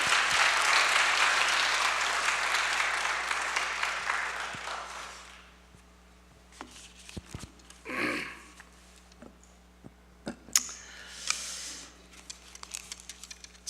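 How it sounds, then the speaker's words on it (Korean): Church congregation at an anniversary revival service claps loudly for a pastor, a dense burst lasting about five seconds that fades into near silence broken by scattered small rustles and a short murmur. "박수로 한번 환영하겠습니다."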